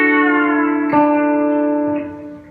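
B-bender electric guitar lick played with the bender: sustained harmonic-rich chord tones ringing with effects, two plucked attacks around one and two seconds, pitches shifting slightly before fading.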